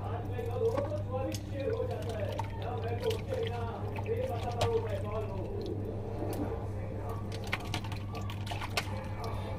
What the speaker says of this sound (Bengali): চলো মাংসটা ঝটাপট করে ধুয়ে নিই